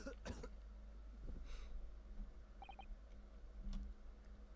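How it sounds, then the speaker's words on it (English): A character coughing in the Ace Attorney Chronicles courtroom video game, a few short harsh bursts near the start with faint ticking game effects and quiet background music afterward. "he's coughing like a maniac now"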